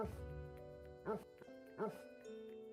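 Two brief dog barks in a video game, spaced about a second apart, faint and close, with a person talking around them.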